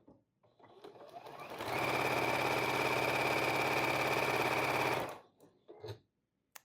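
Juki sewing machine stitching cotton flannel with cotton silk-finish thread and a Schmetz Microtech needle, a close, loud steady whirring run of about three seconds that ramps up and then stops, with softer handling clicks around it.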